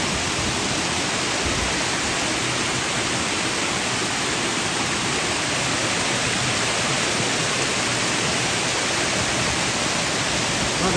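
Samrong Kiat waterfall in Khun Han, Sisaket, a steady, loud broadband roar of falling water filling the whole stretch without pause, no voices over it.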